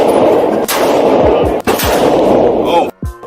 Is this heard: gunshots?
yes